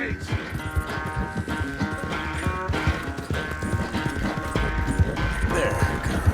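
Horse hooves beat in a rapid, rhythmic gallop in Red Dead Redemption 2, close and clear alongside music, with voices speaking over the riding.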